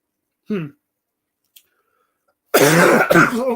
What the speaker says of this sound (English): coughing fit coming on.